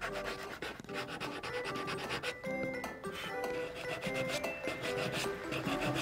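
Coarse-grain sandpaper shaping a wooden knife handle during a rusty bayonet restoration, a steady close rasping rub repeated in quick back-and-forth strokes, quiet and without talk.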